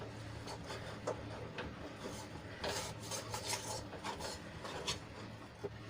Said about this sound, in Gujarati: લોટ આપણો કોરો નહીં રહી જાય એ રીતે આપણે સરસ રીતે હલાવી લઈશું